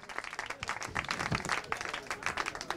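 Applause from a gala audience honouring third-category football players at a sports awards night, a few seconds of moderately loud scattered clapping that swells and stays steady.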